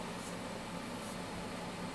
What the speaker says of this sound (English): the air conditioner.